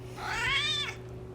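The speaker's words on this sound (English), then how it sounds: "That's my cat Jack asking for treats." A house cat meows once for treats, a single drawn-out, rising and falling meow close to the microphone against a faint steady hum.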